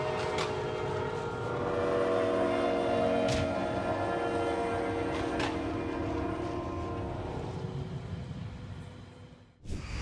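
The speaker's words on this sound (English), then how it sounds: "I can't believe people still think they can outrun a train." A train rolls steadily past a railroad crossing, heard from a car on the road, with a continuous rumble and a few brief sharp accents before it fades near the end.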